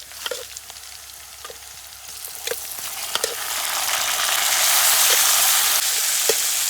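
Marinated chicken sizzles steadily in hot oil with onions and green chillies for a biryani, a dense continuous fry that swells louder toward the end, punctuated by a few sharp spatters and stirring clicks.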